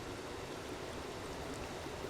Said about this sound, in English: This enormous waterfall. Immediately to my left.